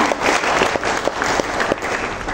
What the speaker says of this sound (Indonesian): Yang percaya boleh berikan tepuk tangan yang paling meriah untuk Tuhan kita.